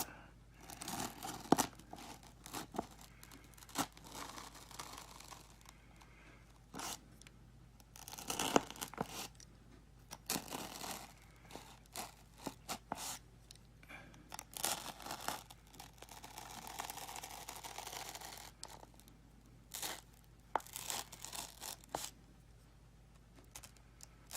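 A blade cuts out foam-like case material for a DIY DeWalt 20V Max grease gun and AR15 pistol toolbox: close, scattered scraping and tearing strokes in irregular bursts, with short quiet gaps.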